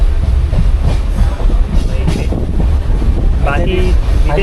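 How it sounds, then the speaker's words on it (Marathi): A moving passenger train on the Sawantwadi–Diva route through Konkan, heard from inside the carriage: a constant heavy rumble and rattle with wind buffeting, and faint voices in the background. "ट्रेनमध्ये बसलेलं आहे"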